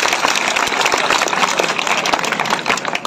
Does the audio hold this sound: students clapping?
yes